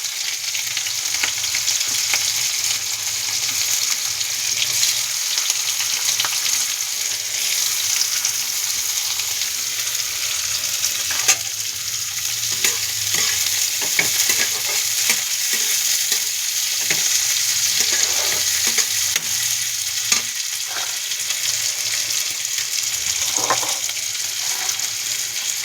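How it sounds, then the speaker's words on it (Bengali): Onion and bay leaves fry in hot oil for a home-style goat liver, fat and soy chunk curry, a steady close sizzle running throughout with occasional soft stirring scrapes and no talking. "পেঁয়াজটা ভাজা হবে"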